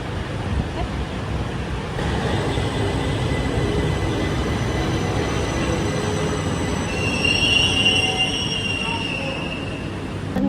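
A driverless LRT light rail train runs along its line, a steady loud rumble of wheels on track with rising metallic squeal toward the end, heard alone without talk.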